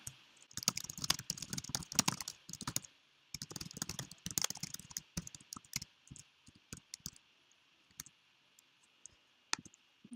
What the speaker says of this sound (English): we'll type that in here